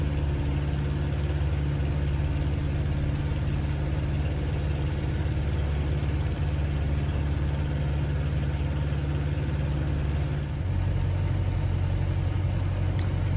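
A 1946 Champ light aircraft engine drones steadily and loudly during takeoffs and landings, a constant low hum that shifts to a slightly different pitch near the end.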